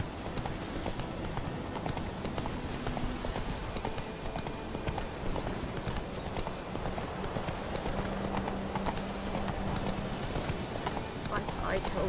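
Horse hooves gallop in The Witcher 3, a rapid clip-clop rhythm running steadily throughout under a dense game soundscape, with a voice speaking over it.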